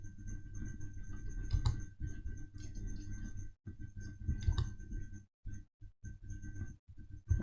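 Rapid keystrokes on a computer keyboard, close and steady, with short pauses between bursts, with a faint electronic hum underneath.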